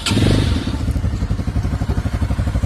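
A motorcycle with about 1,000 kilometres on it, in as-new condition, runs close and loud. A burst of start-up noise gives way to a steady, throbbing idle with regular pulsing firing beats.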